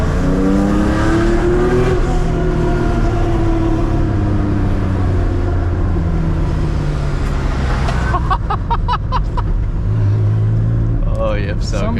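A rebuilt Porsche engine with new piston rings and MSD ignition pulls hard and revs up and down loudly at close range, a rising and falling roar with sharp crackles later, while people talk over it.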